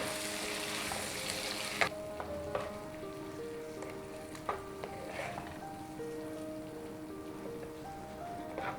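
Ground onion and tomato paste hisses and sizzles in a hot kadai for a dhaba-style kadai paneer, a steady close frying crackle with occasional sharper pops as it is stirred.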